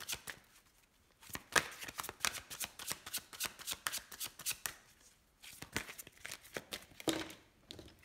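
A deck of oracle cards is riffled and shuffled in quick rapid bursts, crisp papery flutters repeating close up with brief pauses between runs.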